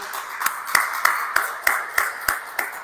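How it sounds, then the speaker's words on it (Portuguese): Church congregation applauding at a Portuguese-language worship service: sparse, rhythmic claps in a steady beat of about three per second, moderately loud in a reverberant room, with no voices over them. "Vamos aplaudir nosso Deus em nome de Jesus"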